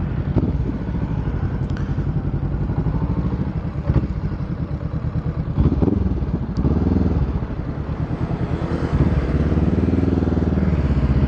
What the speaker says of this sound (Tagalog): So tunog ng makina niya yan. Inline 2